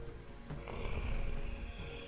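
A video game character snoring in a tomb-raiding dungeon crawler, a low rumbling snore that swells and fades over a couple of seconds, faint and unaccompanied by talk.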